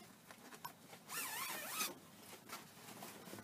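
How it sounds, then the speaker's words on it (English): A zipper on an under-bed hanging dress storage bag is pulled open in one quick, rasping stroke, close up, with faint rustling before and after. "find the open zipper"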